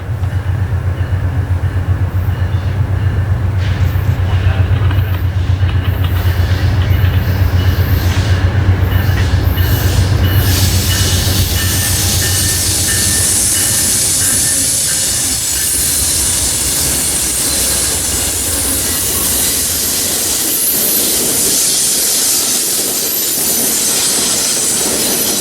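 A train passes at Point of Rocks, Maryland, its low rumble giving way to long, loud, high-pitched wheel squeal that persists steadily as the cars roll by.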